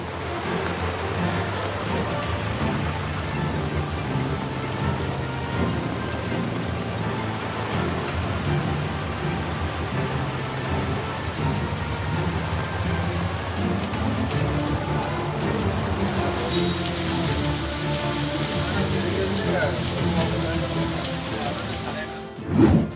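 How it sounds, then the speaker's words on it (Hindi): Heavy monsoon rain pours down in northern India, a dense, steady hiss of drops striking surfaces, loud and unbroken, with a faint voice underneath and a brief thump at the end. "आज दिल्ली, हिमाचल, उत्तराखंड, गुजरात, जम्मू कश्मीर और उत्तर प्रदेश में बारिश हो रही है।"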